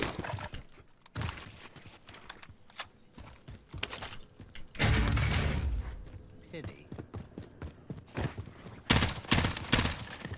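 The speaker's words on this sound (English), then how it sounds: "Or does the M16 really just shoot like this?" M16 rifle fire in a first-person shooter video game, rapid bursts of sharp shots in uneven clusters, loud and close, with a heavier blast partway through and game noise between volleys.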